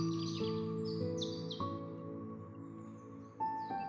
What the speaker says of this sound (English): The bird singing represents spirit.